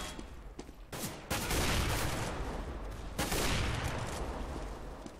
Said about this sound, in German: der Schuss ist schön gewesen